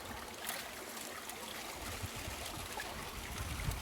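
Water washes light material down through a drop riffle sluice box and out the back, a soft continuous trickling flow with faint gritty rattles, quiet and close.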